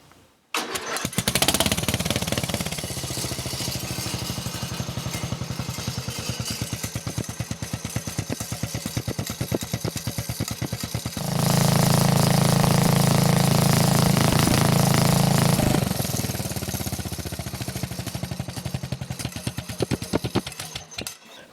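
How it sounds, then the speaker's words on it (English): Flathead engine on an old Montgomery Ward riding mower, fitted with a tractor muffler, runs at a steady mid-pitched drone that swells louder for a few seconds midway, then settles back, close and with no talking. "get an idea what a flathead sounds like"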